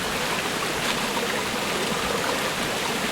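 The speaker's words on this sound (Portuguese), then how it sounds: "meia hora que isto demorou a pingar assim" Water dripping through an improvised chemical filter into a canteen, heard as a steady, dense hiss of trickling water with no clear gaps, continuous and close throughout.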